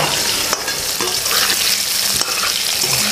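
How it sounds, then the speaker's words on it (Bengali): Loud, continuous sizzle of potatoes frying in oil, broken by a few sharp scrapes of stirring. "আলুগুলো ভাজা হয়ে গেছে"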